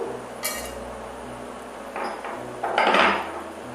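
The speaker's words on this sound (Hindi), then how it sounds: "पहले हम पैन में डालेंगे 4 से 5 लौंग" Four or five whole cloves tossed into an empty pan for Bengali bhaja masala, landing as a few sharp clinks and a brief rattle near the start and again toward the end, close and fairly quiet.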